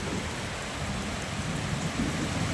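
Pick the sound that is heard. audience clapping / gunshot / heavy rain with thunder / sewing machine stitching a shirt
heavy rain with thunder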